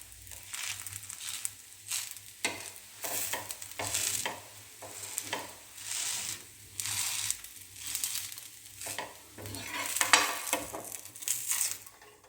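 Dosa batter made from black kavuni rice and black urad dal cooks on a pan, with a soft sizzle under rhythmic scraping and spreading strokes that rise and fall about every second.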